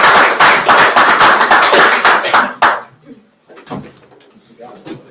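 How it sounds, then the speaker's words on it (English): A small audience at a pub claps after a medical professor's live talk: about two and a half seconds of brisk, close clapping, then it stops abruptly and scattered room noise and a few knocks follow. "Kevin Corbett, let's give a round of applause."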